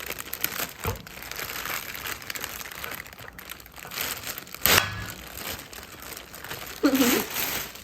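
Taped cardboard packaging of a Ninja Foodi-Pro pressure cooker being opened, giving close, fairly loud crinkling and crunching with a sharp rip near the middle and a louder rustle near the end.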